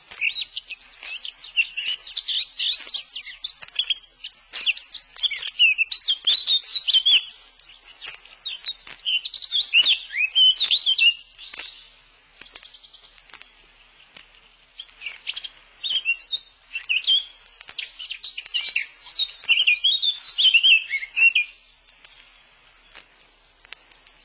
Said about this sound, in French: Non, c'est la fauvette que je t'avais promise. Le mâle de la fauvette.